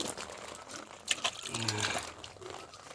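Water being poured over a pet dog during its bath, a steady close splashing and trickling with faint voices underneath.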